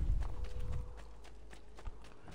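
Horse hooves clatter in a quick galloping rhythm in Assassin's Creed 2, loud at first and then fading as the animal runs off into the distance.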